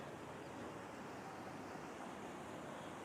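Steady broadband rush of Sarabanga surplus water flowing into a large lake, continuous and even throughout, with a windy outdoor hiss and no voices.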